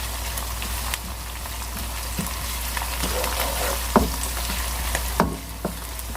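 Chopped onions frying to light brown in a pan for chicken keema, a constant hissing sizzle with occasional soft clicks and scrapes of stirring, no talking.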